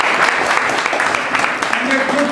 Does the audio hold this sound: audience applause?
yes